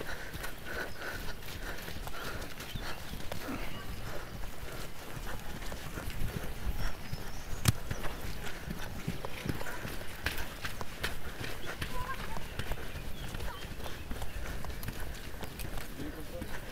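Horse hooves clip-clopping at a steady running gait on a jumping course during show-jumping training, a continuous rhythmic beat under frequent nearby talk and arena ambience.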